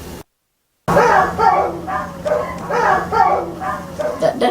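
A dog whimpers and moans in a run of drawn-out, crying yelps rather than barks, fairly close and loud, with a steady low hum underneath after a short silent gap.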